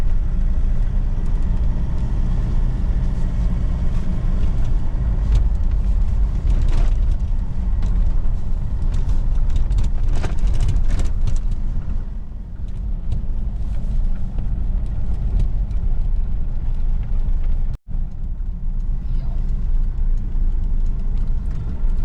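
Slow road traffic in Dasmariñas, heard from inside a car, gives a steady low engine rumble of vehicles idling and creeping forward, continuous for over twenty seconds with a brief dropout near the end.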